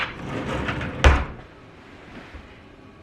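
A small kitchen utility drawer closes with one sharp knock after a soft sliding rustle, followed by quiet room noise and a faint bump at the end.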